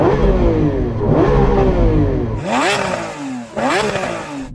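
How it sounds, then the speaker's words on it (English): A Lamborghini Aventador SVJ's V12 engine is revved hard several times in a row, each blip sweeping sharply up and falling back, loud and close. "Mark, do you want to rev up your Aventador?"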